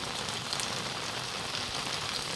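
Steady rainfall over a village, a dense, even hiss of drops on surfaces with no voices and no breaks.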